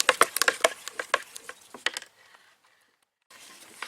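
Rapid clattering, scraping knocks of a stick stirring colorshift pearl paint inside a container, uneven and close, stopping abruptly before a quieter faint shuffle.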